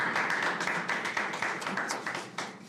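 Dense, steady applause from an audience welcoming a poet on stage at a Hindi kavi sammelan literary festival, fairly close, with many overlapping claps that fade slightly toward the end.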